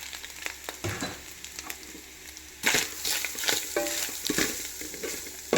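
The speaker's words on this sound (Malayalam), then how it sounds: "ഇനി ഇതിലേക്ക് ഞാൻ തേങ്ങാപ്പീര ഇതിൽ ചേർക്കുകയാണ്" Grated coconut sautéing with nuts and coconut pieces in a pan, a steady sizzle broken by scraping stirs and a few sharp clinks of utensil on metal, louder bursts in the second half.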